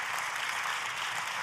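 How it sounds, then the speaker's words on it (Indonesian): A church congregation applauding, a steady wash of many hands clapping at a distance, even and sustained without any voice on top. "kalau mau tepuk tangannya yang paling meriah"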